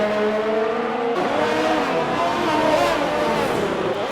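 A Ferrari race car engine in a racing game, revving high with tonal engine whine that shifts pitch as it accelerates, loud and continuous.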